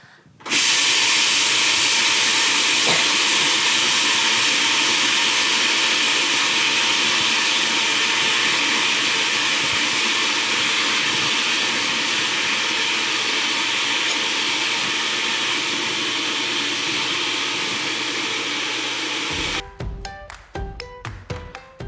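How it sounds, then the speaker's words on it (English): A food processor grinds hot seeds into sunbutter, a loud, steady whirring roar running continuously for about twenty seconds before cutting off into a few short clattering bursts at the end. "And now we have put the hot seeds into a food processor."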